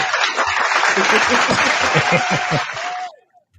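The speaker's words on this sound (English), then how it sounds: "Give her a round of applause." A round of applause rings out, dense clapping mixed with chuckles and voices for about three seconds before cutting off abruptly into near silence.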